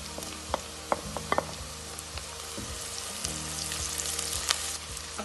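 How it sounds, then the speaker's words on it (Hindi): Onions frying in hot oil for seekh kabab masala give a steady, bright sizzle, with scattered pops and a few utensil clinks against the pan, heard close up without talking. "यहाँ मैंने ऑयल गरम कर लिया और मैं प्याज डालने लगी हूँ"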